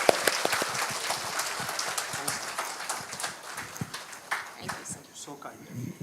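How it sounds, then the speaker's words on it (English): Applause from a conference audience honoring a session speaker, a dense spread of claps across the whole stretch with some talk mixed in. "Big clap for him."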